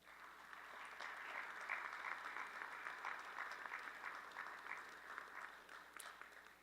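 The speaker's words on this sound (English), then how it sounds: "Let's give yourselves a round of applause for the start of 2025." Applause from a crowd at a university spring convocation ceremony, sustained even clapping that fills the hall at moderate distance, continuous throughout without voices.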